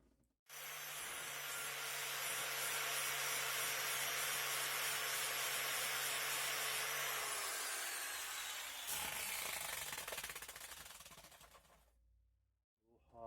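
A metal piece is pressed against the side of a spinning grinding wheel to level it, giving a loud, sustained abrasive whine that holds for about ten seconds before easing off as the wheel spins down.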